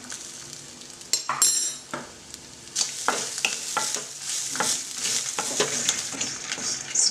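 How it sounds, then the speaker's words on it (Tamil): Dried chillies, fenugreek, rice and grated coconut roasting in coconut oil in a pan for Tamil iru puli kuzhambu, with steady sizzling and repeated scraping stirs of a spoon, close and fairly loud, no voices. "இப்போ நல்லா செவக்க வறுத்தாச்சு."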